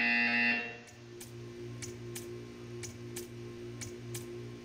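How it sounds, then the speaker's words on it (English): A buzzer in the video game Portal: a loud tone opens the clip, then a steady series of evenly spaced ticking pulses about once a second runs over a low, constant electrical hum. "You will hear a buzzer."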